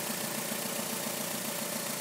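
A car engine idles steadily up close with a constant, even rumble and light rhythmic pulsing while its alternator is being checked, no change in speed throughout.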